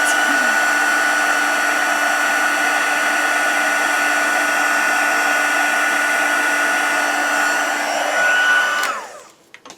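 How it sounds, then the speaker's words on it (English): A heat embossing tool blows hot air with a loud, steady whir close by for several seconds, then spins down and cuts off near the end. "Once it's started to melt, move your heat tool away."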